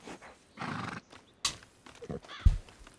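A ridden horse whinnies and snorts while hooves clip-clop in scattered steps nearby, the sounds coming in short, uneven bursts.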